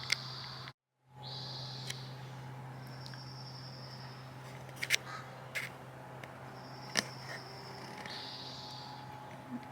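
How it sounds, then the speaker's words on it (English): Birds call outdoors in a quiet setting, with a few crow-like caws and sharp chirps rising over a steady low hum and faint insect-like buzzing; the calls are sparse and moderately distant, with no speech. "Are you listening to the birds?"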